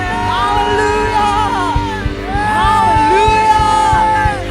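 A church congregation at a Sunday communion service, streamed online from GBI Sakura Lima, cheers and shouts praise to God: a loud, sustained crowd of whoops and yells over steady music with a rhythmic beat, with voices rising and falling throughout.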